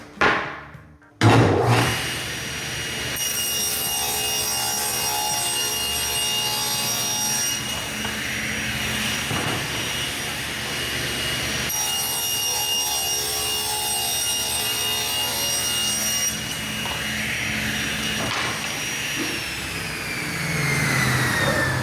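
A table saw rips strips from a wooden board, the motor spinning up with a sharp start and then holding a loud, steady whine with a grinding cutting tone that shifts slightly through a long continuous cut.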